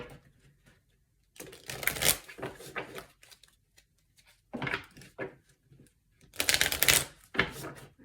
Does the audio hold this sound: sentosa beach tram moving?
no